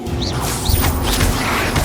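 Crashing Confringo spell blasts with whooshing streaks in the video game Hogwarts Legacy, loud and continuous amid a busy fight.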